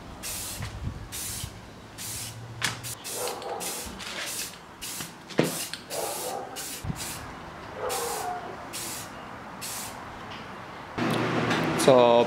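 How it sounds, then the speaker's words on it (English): Spray can applying a base coat of primer onto a wooden baseball bat, with repeated short hissing bursts separated by brief pauses, fairly close and moderately loud, with some handling noise between sprays. "I'm gonna start with a base coat of primer to help it stick to the wood"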